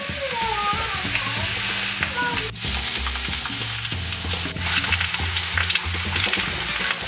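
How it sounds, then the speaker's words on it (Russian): Food being pan-fried and stirred gives a steady close sizzle throughout, with scraping strokes of stirring over it and no voices. "Вот так вот красиво я сейчас все обжариваю."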